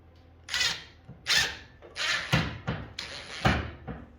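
Wood-to-metal self-tapping screws are driven into plywood on a metal router sled table in a series of about six short whirring drill bursts, each a second or less, close and fairly loud with brief pauses between.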